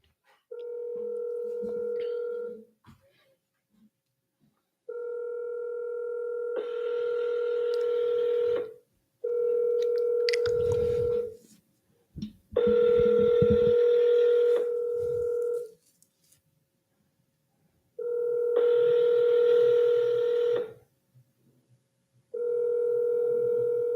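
Phone-call audio: a DTMF dial-tone series of steady tones repeats in separate bursts, broken by short gaps and a few clicks, ringing on without anyone answering the call.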